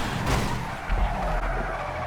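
A taxi drifting in GTA 5 with reduced grip at full speed, tires squealing and skidding over a loud engine roar, with a sharper surge partway through and no talking.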